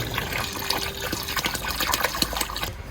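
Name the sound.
watering soil in an air-pot container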